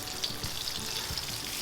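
A pork chop fries in a pan for Macau pork chop buns, giving a soft, continuous sizzle with faint low bubbling underneath, at a fairly low level.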